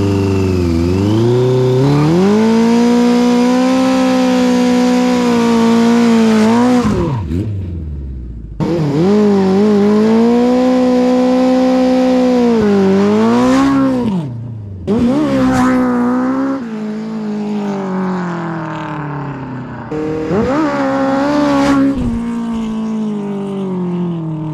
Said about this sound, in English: I guess we gotta do at least one quick burnout, right?